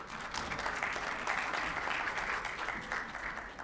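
Members of an audience at a professional seminar applaud to welcome a speaker onto the dais, a steady wash of clapping holding at even strength for a few seconds.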